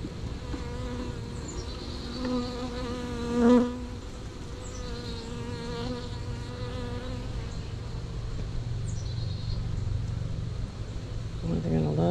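A honeybee swarm being moved into a larger hive box with brood frames gives a steady, dense buzz that fills the whole stretch at close range, with a brief louder swell partway through.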